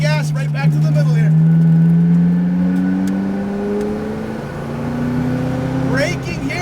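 A McLaren 570 GT4 race car engine rises in pitch as it accelerates steadily through the gears on a coned course, loud and close, with an instructor talking over it at the start and end.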